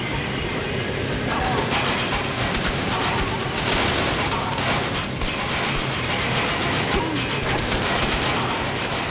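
Dense, continuous gunfire and explosions from the cover-and-shoot video game Mindjack fill the scene, a loud overlapping barrage with no pauses.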